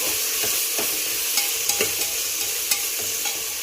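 Rice for matar pulao sautés in ghee with a dense, steady sizzle. Sharp scrapes and taps of a stirring spoon come every half second or so, close-up, with no talking.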